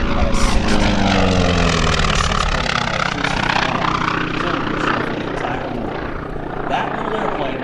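An FM-2 Wildcat propeller fighter flies past at an airshow, its engine droning loud and then fading with a shifting pitch, while an announcer talks over it throughout.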